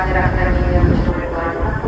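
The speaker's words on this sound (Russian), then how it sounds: "Еще одна электричка приехала." An electric commuter train rumbles into a railway station, a low, loud, continuous roar with a voice speaking over it.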